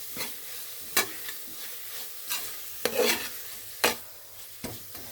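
Chicken curry being stirred in a pan with fresh coriander and mint added, a spoon scraping in sharp intermittent strokes over a soft background sizzle, close and alone.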